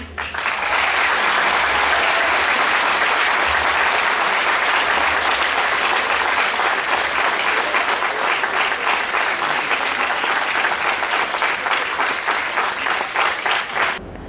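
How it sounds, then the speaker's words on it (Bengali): An audience at a public ceremony stands and applauds in honour of the national flag, loud, sustained clapping from a large crowd with a faint pulsing rhythm that carries without a break for about fourteen seconds. "জাতীয় পতাকার সম্মানে বসে উঠে দাঁড়িয়ে একবার করতালি দিন।"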